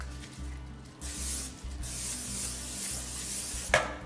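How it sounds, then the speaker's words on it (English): Cooking spray hisses onto a springform pan for a dessert in two bursts, a short one then a longer steady spray, close and fairly quiet over a low background hum, ending with a small knock. "So start by just spraying that pan."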